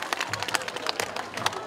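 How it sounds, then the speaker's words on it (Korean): An outdoor crowd at a neighbourhood cherry-blossom singing contest breaks into lively applause, many hands clapping briskly and fairly close, with a little cheering mixed into the steady patter. "여러분, 우리 이성희 여사님을 박수로 만나겠습니다."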